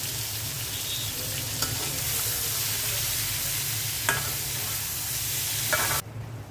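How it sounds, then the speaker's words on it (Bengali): Spices and ginger-garlic paste frying in a pan hiss in a loud, continuous sizzle with a few stirring clicks, then cut off sharply near the end; nobody talks. "এখন ভালো করে ভেজে নিচ্ছি। আদা রসুনের পেস্ট দিয়ে দিলাম।"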